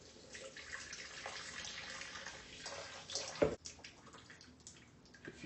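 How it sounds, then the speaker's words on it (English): Brewed coffee from a French press is poured into a blender, a steady liquid stream splashing and gurgling at close range, with a brief clunk near the end. "And then pour it into my blender."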